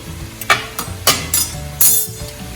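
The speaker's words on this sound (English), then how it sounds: "start to hit the pan and you can hear the sizzling" Mushrooms sizzle in a dry pan with no oil, a steady low crackle broken by a few louder clinks and scrapes as they are stirred, close up.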